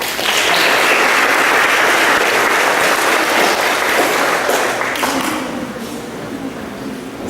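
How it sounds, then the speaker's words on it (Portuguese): Sustained applause from a church congregation, loud and dense for several seconds, then thinning and fading toward the end. "merece uma salva de palmas"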